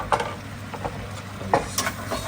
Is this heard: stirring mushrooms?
yes